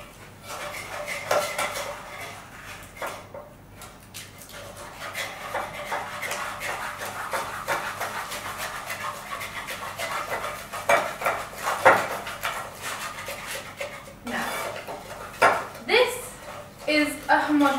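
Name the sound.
egg cracked into a bowl and mixed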